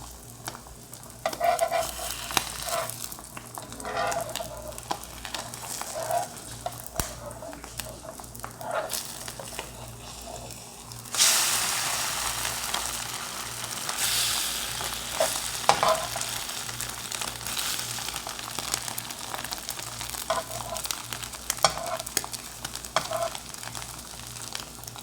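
Sandwich bread toasting in a pan over low heat gives a steady soft frying sizzle throughout, with a brief brighter surge partway through, and no talking.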